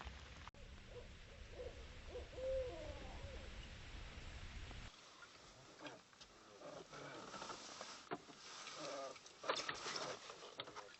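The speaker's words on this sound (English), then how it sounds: "check out this owl. Just hanging out on the limb." An owl perched on a tree limb gives low hoots in an outdoor setting, faint and somewhat distant, with rustling and other outdoor noise after.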